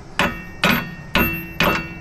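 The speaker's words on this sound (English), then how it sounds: "Now I think we got to hammer these bolts out." Four loud, evenly spaced hammer blows ring out, knocking bolts free during road trip preparation work on a vehicle, each strike sharp and close with a short metallic decay.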